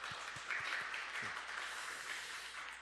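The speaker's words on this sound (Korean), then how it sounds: "주님 1년 동안 주님이 주신 맡긴 사역 잘 감당할 수 있도록 박수로 격려해 주시기 바랍니다." A church congregation applauding newly appointed deacons during a Sunday worship service, soft and fairly distant clapping that continues steadily throughout.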